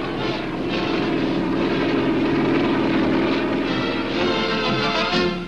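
A loud, throbbing rotor and engine roar of a twin-engine transport helicopter lifting off carrying a Jeep, steady and close throughout.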